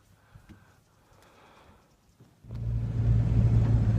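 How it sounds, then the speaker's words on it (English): A car's engine turns over and settles into a steady low rumble partway through, getting louder and holding as it starts off down a road, after a quiet interior with faint knocks. "Alright, we're driving. We're driving in a nice warm car."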